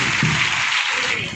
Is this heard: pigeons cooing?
no